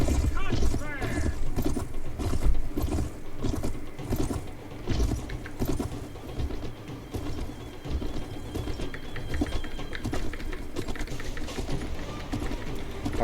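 Horse hooves clip-clop in a video game with cavalry and horse archers, quick overlapping hoofbeats mixed with mechanical game sounds, while someone talks over them.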